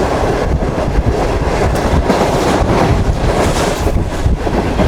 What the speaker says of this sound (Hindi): 6 तकरीबन 17 मिनट पर ट्रेन हमारी अप्रोच बना रही है घोटकी रेलवे स्टेशन पर